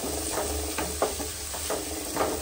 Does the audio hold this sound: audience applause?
no